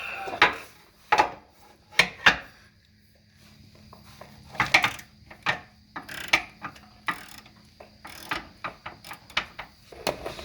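A socket wrench on an extension breaks loose a bellhousing bolt on a C6 Corvette transmission, heard as scattered sharp metallic clicks and ratcheting bursts with quiet gaps, close by and without speech.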